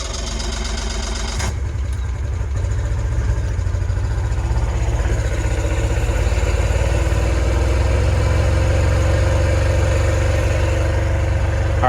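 Engine of a Scout 155 boat idling steadily after a jump-pack start, a loud, even low rumble that steps up after a brief burst at the start and then holds constant with no voices.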